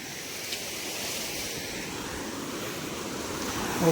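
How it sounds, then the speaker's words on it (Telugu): Floodwater from cyclone rain rushes in a steady, broadband roar beneath a road bridge, constant and fairly close with no voices, surging slightly louder at the very end. "మీకు వాటర్ శబ్దం ఎక్కువగా వస్తుందని"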